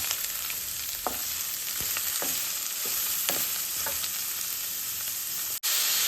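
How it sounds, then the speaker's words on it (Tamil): Chopped onions and green chillies sauté in hot oil, a steady close sizzle broken by several sharp scrapes of a spoon stirring against the pan. "2 பச்சை மிளகாய் போட்டு நல்லா வதக்கிக்கிடுவோம்."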